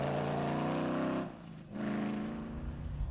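An off-road rally car in Class A, sounding worse for wear, revs hard with a rough, strained engine note, briefly drops off as if shifting or lifting, then climbs back to a loud sustained drone.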